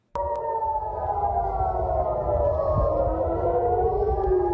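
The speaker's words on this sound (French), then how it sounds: "les sirènes de l'état d'urgence retentissent à Jérusalem" Civil defense emergency sirens in Jerusalem start suddenly and wail loud and steady, several overlapping tones slowly falling in pitch, continuing without a break.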